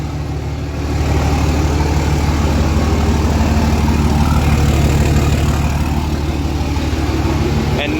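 Cummins diesel truck engine runs steadily after an exhaust flex pipe repair, a constant low rumble with a deep drone that swells slightly after the first second and holds evenly throughout.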